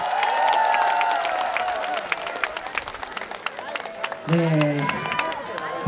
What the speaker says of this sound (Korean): 여러분, 우리 군수님께 다시 한 번 큰 박수 부탁드리겠습니다